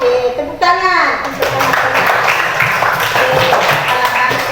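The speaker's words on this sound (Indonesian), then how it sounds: "tepuk tangan" Schoolchildren clapping hands in a classroom, a quick burst of rapid overlapping claps following a child's spoken answer, with lively voices under and around the clapping.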